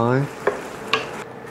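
Spaghetti with tomatoes and spinach being stirred in a pan, heard as two quick, close scrapes over a soft sizzle, after a brief tonal hum at the very start.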